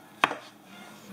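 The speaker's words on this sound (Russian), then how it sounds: "Крупно режем." A knife coarsely chopping salad ingredients on a cutting board, one sharp close chop followed by a fainter second cut about a second later.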